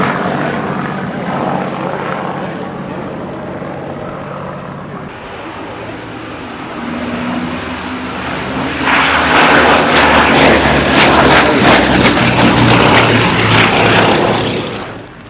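A vintage propeller aircraft flies at the Flying Legends 2015 airshow, its steady engine drone rising to a louder, rougher roar partway through, with a person talking over it.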